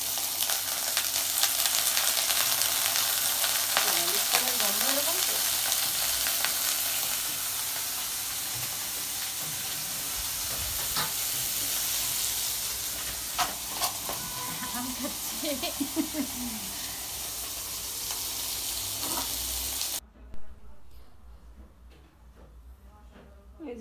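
Chopped onion frying in olive oil, a steady loud sizzle and hiss close up with a few stirring scrapes, fading abruptly near the end.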